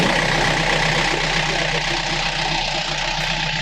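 A Solis Yanmar tractor engine idles in neutral, a steady, loud, continuous diesel rumble with an even low drone and no talk.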